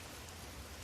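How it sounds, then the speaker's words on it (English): Steady rain pattering on a roof, a dense, even hiss with no breaks and no voices. "The rain intensified,"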